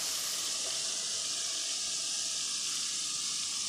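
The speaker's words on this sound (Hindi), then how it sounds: "सफ़ेद ज़ीरा 1 टीस्पून डालूँगी मैं इसमें" Cumin seeds tossed into cooking chana dal give a continuous, even hiss and sizzle, moderately quiet and unbroken throughout.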